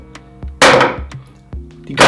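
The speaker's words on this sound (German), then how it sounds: "Knallt ganz schön hier auf den Tisch, aber löst nicht aus." Airsoft impact grenade dropped onto a table without triggering, three loud sharp clattering impacts, each followed by short ringing, close with no voices.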